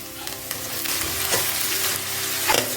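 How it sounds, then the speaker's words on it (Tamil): Onions sautéing and being stirred in a pan for vegetable fried rice, a steady close sizzle with scraping stir strokes throughout and no talk. "வெங்காயம் எல்லாம் சேர்த்து கொஞ்சம் வதங்கணும்"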